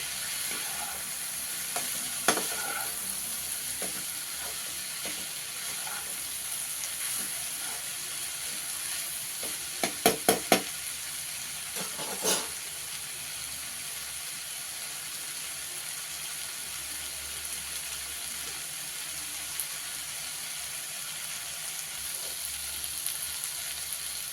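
Masala frying in a pan for a Telugu sorakaya pappu dish, with a steady soft sizzle throughout and a few sharp clinks of a spoon stirring against the pan near the middle, no voices.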